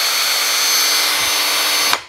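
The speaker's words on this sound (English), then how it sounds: "It's just a smooth running drill," A Festool T18+3 cordless drill, set up for driving 2.5-inch wood screws, runs at a steady high pitch for about two seconds, then cuts off abruptly. It sounds loud and close, with no one talking over it.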